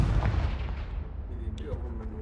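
Confringo fire spell blasts in Hogwarts Legacy, a heavy booming burst at the start that rolls off into a rumbling tail, with a few faint crackles and game sounds after.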